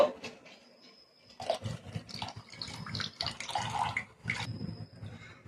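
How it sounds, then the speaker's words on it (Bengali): Water poured and drained off soaked rice in a kitchen while preparing chicken biryani, a steady splashing, trickling flow with fluctuating bursts, close and moderately loud, with no talk. "জলটা ভালো করে ছেঁকে নিয়ে চালটা দিয়ে দেবো"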